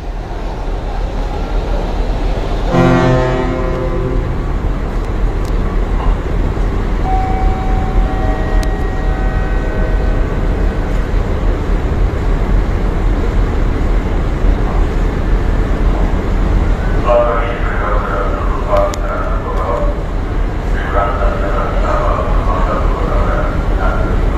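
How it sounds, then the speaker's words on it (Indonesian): One deep ship horn blast from the passenger ship KM Nggapulu at Tanjung Perak, Surabaya, signalling departure, sounds briefly amid constant loud rumbling machinery and wind, with muffled voices and tonal noises drifting in later. "Barusan tuh klakson 1 kali berarti menandakan tuh kapal ini akan berangkat"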